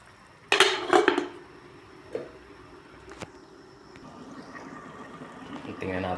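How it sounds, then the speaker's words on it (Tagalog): A metal lid clangs onto a cooking pot of mutton and cabbage soup in a short burst of loud rattling clatter, followed by a few softer clinks and quiet background noise. "Takpan mo natin guys."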